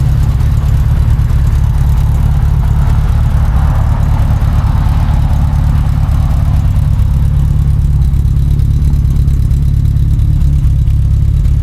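Mini Clubman GT engine idling at 1000 RPM after a rebuild, a loud, steady low-pitched drone with an even, continuous hum, close by and without voices.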